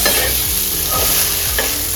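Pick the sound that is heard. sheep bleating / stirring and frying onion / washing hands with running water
stirring and frying onion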